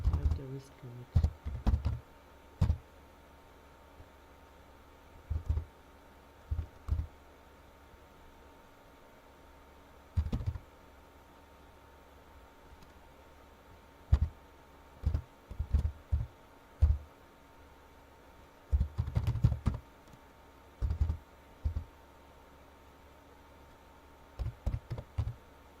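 Computer keys tapped in short, irregular bursts of clicks during a trading platform API demonstration, close and fairly quiet, with pauses between runs of keystrokes.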